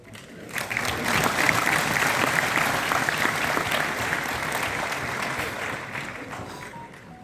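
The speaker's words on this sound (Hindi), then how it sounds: "मेरे बोलने पर आप तालियां बजा रहे हैं" An audience claps during a speech at a Sant Ishwar Samman award ceremony. The applause swells quickly after a brief quiet start, holds as a steady, dense patter and then fades slightly toward the end.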